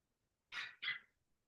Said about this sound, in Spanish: Ladra el perrito.